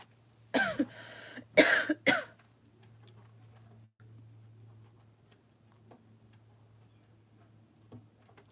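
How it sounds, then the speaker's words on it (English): A person with a dry cough coughs sharply three times close by, then only a faint steady hum and occasional soft ticks follow. "I got the dry cough."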